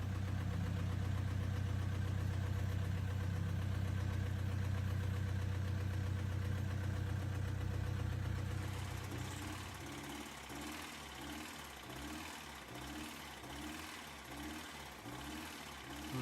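Six-turbo truck engine idling close by with a deep steady rumble, then dropping to a quieter rhythmic, lumpy chugging idle for the rest.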